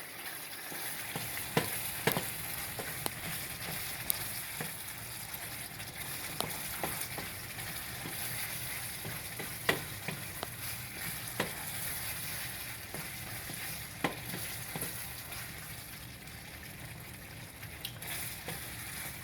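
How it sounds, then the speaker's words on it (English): Sausage gravy being stirred in a pan with the heat turned off, a soft continuous bubbling hiss with scattered spoon scrapes and taps against the pan, fairly quiet and with no talking. "So, I'm going to turn it off and just stir it."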